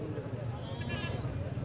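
A goat bleats once, briefly and at mid distance, at a busy Gujrat livestock market, mostly buried under close men's conversation and the low crowd murmur.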